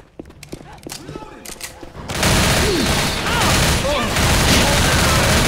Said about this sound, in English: Fire, friendly fire everywhere.